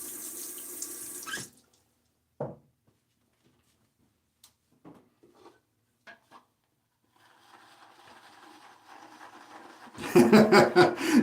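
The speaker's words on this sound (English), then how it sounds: "Rinse out the side of the tub" Tap water gushes to rinse the side and threading of a tub, loud and close, in two separate bursts with a stretch of quiet handling clicks and light knocks between them.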